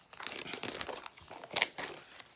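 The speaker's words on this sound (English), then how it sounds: "Get this plastic off." Thin plastic wrapping crinkles and tears as it is pulled off a Blu-ray steelbook, in several close, sharp crackling bursts with brief pauses between them.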